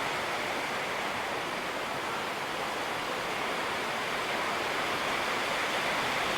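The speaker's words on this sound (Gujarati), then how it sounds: "અત્યારે વરસાદ ફૂલ આવે છે." Heavy rain pours steadily at a cow shelter, a dense, even roar of broadband hiss that holds constant and loud throughout with no voices.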